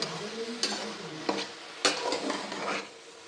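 Spatula scraping a frying pan as cabbage and egg are stirred, a few distinct metallic knocks and scrapes over a low sizzle, close and fairly quiet.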